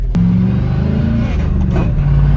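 A rare V8 Chevrolet Silverado pickup with a five-speed manual revs hard, its deep, loud engine rumble rising and falling steadily from start to finish with no talk over it.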